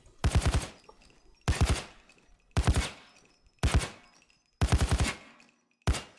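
Full-auto gunfire from a rifle in Payday 2, fired in five loud, rapid bursts of roughly half a second each, separated by brief pauses, with a sixth burst starting at the end.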